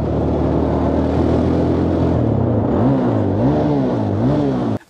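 Engine revving close up through its stock exhaust pipe with the baffle removed: a loud, steady idle rumble, then three quick rev blips rising and falling before the sound cuts out abruptly.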